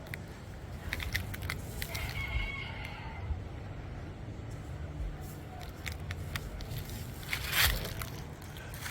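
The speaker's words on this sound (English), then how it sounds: "There's a wild chicken." Wild chickens in Guadeloupe cluck and crow faintly in the distance over a continuous wash of wind and lapping water, with a louder call rising briefly near the end.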